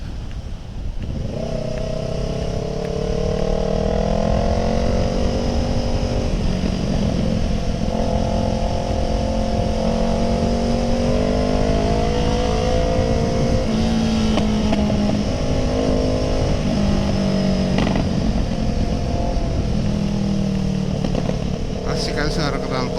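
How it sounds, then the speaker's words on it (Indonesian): A Kawasaki ER6N motorcycle engine with a homemade custom exhaust drones steadily while riding, its note rising and falling with throttle changes, loud and continuous throughout. "Asik kan suara knalpotnya."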